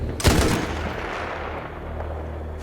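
Gunfire from a weapon in the video game Battlefield 1: a loud burst of shots followed by a sustained roaring wash of battle noise that stays dense and steady, with no talk over it.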